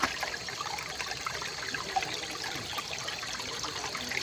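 Spring water flows steadily in a constant rushing trickle, moderately faint, with no talk over it.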